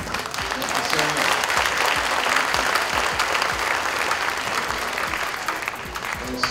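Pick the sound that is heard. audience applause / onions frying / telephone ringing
audience applause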